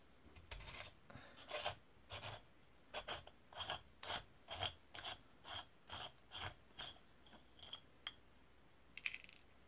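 Rusty Sturmey Archer AW 3-speed bicycle hub being unscrewed, faint close gritty ratcheting clicks repeating in a steady rhythm of short bursts.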